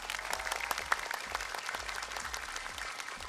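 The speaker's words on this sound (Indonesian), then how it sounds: "Mari kita beri tepuk tangan yang meriah." Audience applause at a large year-end fashion show: dense, steady clapping from a big crowd fills the whole stretch at an even level, with no voices over it.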